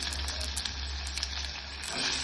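Onions go into hot oil with frying green chillies for masala paddu, giving a steady, close hiss and sizzle with small crackling pops throughout.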